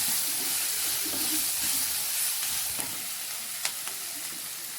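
Chopped ginger fries in hot oil in a pan for chilli paneer, a close, steady sizzle and hiss, broken by a few sharp crackles and light scraping from stirring.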